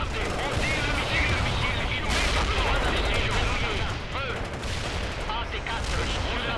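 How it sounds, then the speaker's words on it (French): AT-5 anti-tank missile launches in the World in Conflict war game, set amid dense, continuous battle noise of gunfire and explosions with a sharp burst partway through, under game radio chatter. "Tirez le missile, sans tarder. On tire le missile"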